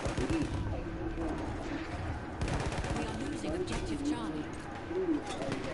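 Mortar shells and gunfire blasting in Battlefield 1, dense bursts of explosions and shots rolling steadily throughout, with a player talking over the battle noise.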